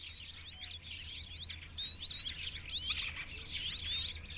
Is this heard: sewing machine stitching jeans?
no